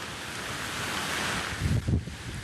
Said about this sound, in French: Le cyclone tropical Béjiza fond sur l'île avec son cortège d'eau et de vent.